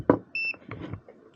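Multimeter continuity beep tested across model railway rails at an electrofrog point, a single steady tone lasting about a fifth of a second, near and clear, amid light handling noises.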